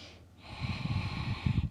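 A deep breath taken during a yoga sun salutation session, one slow inhale followed by a fuller, rougher breath drawn through the nose, close and soft with no talking.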